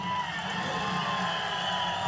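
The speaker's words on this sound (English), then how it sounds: "A big cheer for Color Me Gone as they come to the starting line" Crowd cheering at the 1964 drag racing Nationals at Indianapolis Raceway Park, as recorded on an LP, a steady continuous roar of many voices with no break.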